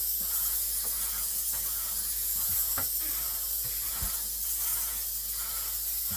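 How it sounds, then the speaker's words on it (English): A continuous hiss of a paint sprayer running steadily as it sprays primer during home renovation, with faint knocks and clicks underneath. "Yeah, we just spraying it down. This is actually primer."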